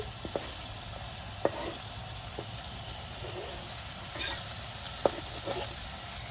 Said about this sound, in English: Then I put my onions in.